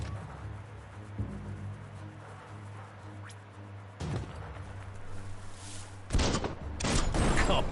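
Gunfire in the Biomutant game pops against an explosive object, with a few sharp shots over a low ambient hum, then louder crackling bursts toward the end as it blows.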